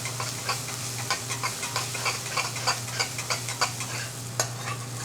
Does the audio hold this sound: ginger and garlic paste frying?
yes